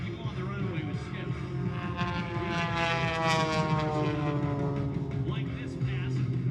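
An aerobatic propeller airplane makes a low pass at the Columbus, Ohio airshow, its engine drone rising and falling steadily in the middle distance while an announcer talks over it and crowd noise hangs underneath.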